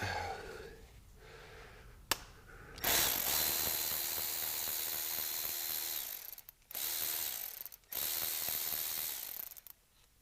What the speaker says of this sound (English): Got my Milwaukee ratchets that I love.